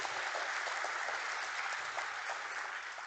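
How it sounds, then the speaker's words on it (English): Steady applause from an event audience, honouring customers at Hindalco Industries' brand unveiling, a dense wash of clapping at even, moderate loudness throughout with no voices over it. "A big round of applause for our customers"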